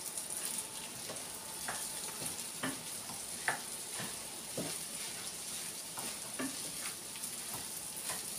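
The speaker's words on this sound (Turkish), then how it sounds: "Şimdi hep birlikte, hepsini birlikte karıştırıyoruz arkadaşlar." A spatula scrapes and clinks through a cornbread breakfast mixture frying in oil in a pan, with steady sizzling beneath regular stirring knocks, fairly faint and without talking.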